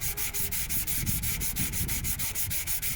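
Filler on a Nissan Micra bonnet being sanded by hand, a steady close rasping rub in quick repeated back-and-forth strokes with no talk.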